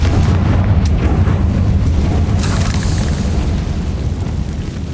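A loud, rumbling blast from the Confringo fire spell in Hogwarts Legacy, a dense booming roar sustained throughout with a brighter crackle partway through.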